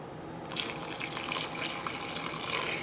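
Running water from a tap pours steadily into a container while measuring out water for Soviet-standard pancake batter, a continuous soft splashing gush at moderate loudness with no voices over it.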